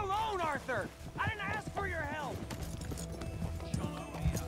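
Hooves clip-clop in a quick gallop as a horse whinnies loudly several times, followed by continued rhythmic hoofbeats, in the video game Red Dead Redemption 2.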